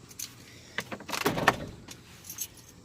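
A worn door on a 1993 Chevy S10 pickup with tired hinge bushings swings open, giving a short creak and clunk in the middle with a faint jingle around it, close by and without voices.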